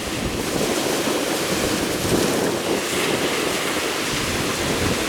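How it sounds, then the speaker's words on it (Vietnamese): Rough sea waves surge and break continuously around a boat battling heavy swells, with strong wind buffeting the microphone in a loud, unbroken roar. "Chiếc này đi sóng này quá khó khăn rồi,"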